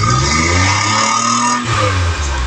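A 1983 Suzuki FX car engine in very good condition revs hard and loud up close, a steady continuous roar that dips briefly before climbing again.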